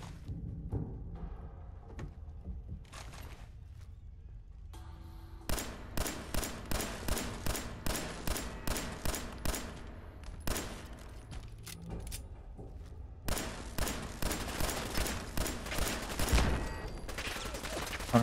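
Machine gun fire in Fallout 4, two long bursts of rapid, evenly spaced shots, loud and close, separated by a short lull with faint mechanical clicks.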